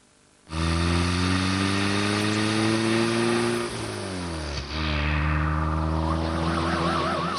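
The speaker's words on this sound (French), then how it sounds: "Ces quelques virages devraient vous convaincre facilement d'acheter une Zadix" A Zadix car drives through a series of turns in a car advert. Its loud harmonic engine drone starts abruptly, then dips and rises in pitch as the car takes the bends. No one speaks.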